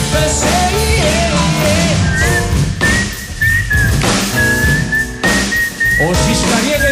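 Sustained melodic whistling live on radio over loud music with drums and bass, the whistled line gliding and holding notes through most of the passage.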